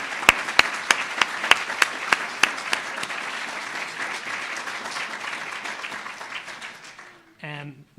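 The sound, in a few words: audience applause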